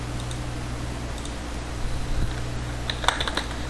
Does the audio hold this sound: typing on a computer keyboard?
yes